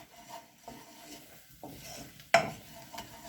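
A spoon stirs pumpkin risotto in a pot, giving soft scraping strokes with a faint simmering hiss and one sharper knock against the pot, close and fairly quiet.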